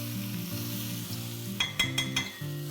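Chicken and potatoes frying over a high flame, a steady close sizzle that carries on under a musical background, with a few sharp scraping clinks of stirring near the end.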